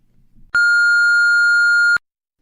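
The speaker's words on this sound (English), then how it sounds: "Leave a message after the beep." After a faint murmur, a single loud, steady electronic voicemail beep sounds for about a second and a half, then cuts off into silence.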